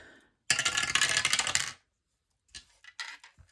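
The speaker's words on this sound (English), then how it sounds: "That's the wrong dice, Julianne." Dice tumble and clatter across a hard surface in one busy rattling burst lasting about a second, followed by a few softer, separate clicks as they settle.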